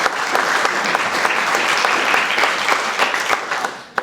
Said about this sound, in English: Let's have a round of applause again for them.